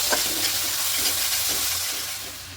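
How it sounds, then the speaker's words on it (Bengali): Turmeric powder and salt sizzle and hiss steadily in a hot oiled pan while being sautéed for a fish curry, a broad close frying sound that eases slightly toward the end, with no talking. "হলুদ গুঁড়ো দেবো খুব ভালো পরিমাণ একটু কষিয়ে নেব"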